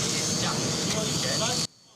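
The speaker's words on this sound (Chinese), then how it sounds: "无人机升空" A military reserve-force drone taking off during a training exercise in Yilan, Taiwan: a loud, continuous engine roar that cuts off abruptly near the end, leaving near silence.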